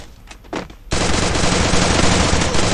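Gunfire in a multiplayer shooter match, a few scattered shots followed by a sudden loud, sustained burst of rapid automatic fire that keeps going as a dense, unbroken roar, heard without talking.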